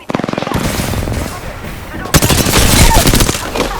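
Automatic weapon fire rattles out in rapid repeated bursts during an Apex Legends battle royale match, loud and close, with gameplay sounds layered underneath and a short break before the shooting resumes.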